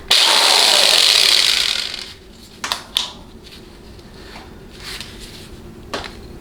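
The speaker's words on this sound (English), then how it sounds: "now we're going to go ahead and drill." Power drill running steadily at slow-to-medium speed on a 6L80 transmission pump during a rebuild, a loud whirring buzz for about two seconds, then winding down into quieter clicks and small metallic knocks.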